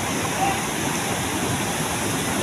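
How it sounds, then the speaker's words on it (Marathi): A continuous, dense roar of falling water at Jambhali waterfall in Korchi taluka, steady and broadband, filling the whole clip without pause. "या धबधब्याला जांबडी धबधबा असं या कोरची तालुक्यामध्ये ओळखल्या जातो आहे"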